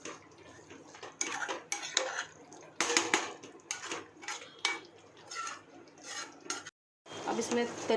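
Chicken curry simmering in a pan while a spoon scrapes and clinks against the metal in irregular strokes, moderately loud and close, broken by a brief silent gap near the end.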